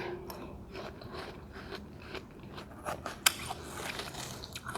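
Someone bites and chews cold, sweet watermelon up close, with wet crunchy bites and soft mouth sounds in an irregular rhythm and a sharper crunch near the end; no talking.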